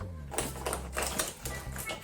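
Keys shift and clink inside a small Chanel Classic Flap bag, giving a run of close, irregular metallic taps and rustles.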